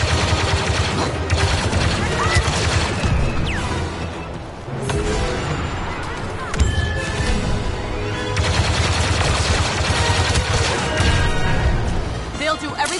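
Rapid gunfire and bursts from a sci-fi video game battle, dense and loud almost throughout, with machine-gun rattle, crashes and explosions layered over game music, briefly thinning around the middle before resuming.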